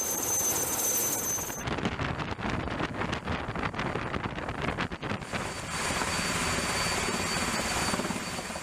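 A helicopter's rotor chops steadily and loudly close by, mixed with a rushing engine whine and wind noise.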